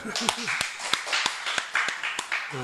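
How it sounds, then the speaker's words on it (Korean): A church congregation claps for a few seconds, the sharp claps loosely spaced rather than a full roar, with a voice heard briefly at the start and end. "자, 수고하셨기 때문에 박수로 한번 합시다."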